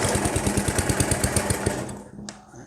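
An old tiller engine with a spark problem chugs rapidly as it tries to catch, then sputters out and falls quiet after about two seconds; it is loud and close.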